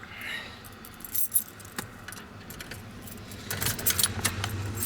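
Keys jangle and clink close by as a steering wheel is unlocked in a 4BT-powered truck with a worn track bar bushing, a few sharp metallic rattles standing out against a quiet, low rumbling background.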